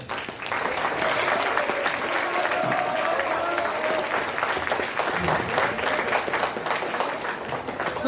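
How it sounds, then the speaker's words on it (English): School audience at a farewell event applauding the class 12 students and teachers, loud sustained clapping from a crowd, with some voices and cheering mixed in throughout. "Can we have a huge round of applause for every one of them?"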